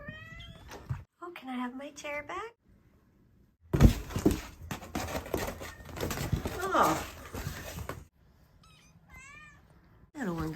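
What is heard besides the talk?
kittens meowing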